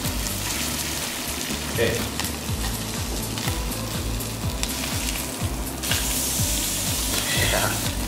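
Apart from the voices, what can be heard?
salmon cake sizzling in a hot pan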